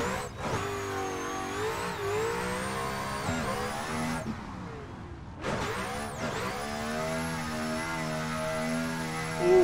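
A drift car in Assetto Corsa, from the HGK drift car pack, revs hard at full throttle, its loud engine note climbing through gears with a brief drop near the middle before surging again, continuous and close.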